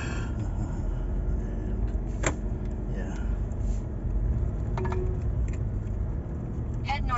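A car driving through Mactan in Lapu-Lapu City, Cebu, with a steady low engine and road rumble throughout, faint traffic around it and a few sharp clicks or horn-like blips.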